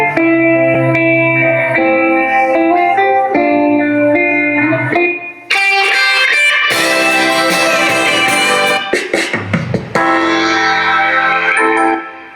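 Preloaded songs blast loudly from the sound system fitted to a BMW motorcycle indoors, with dense tonal music that shifts sections partway through and carries a reverberant, echoing sheen and no talk over it.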